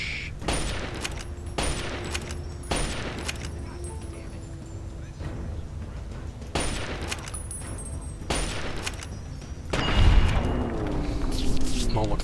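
Sniper gunfire in Fallout 3 comes as several sharp, separated shots with booming tails spread across the stretch, alongside someone talking over the game's ambience.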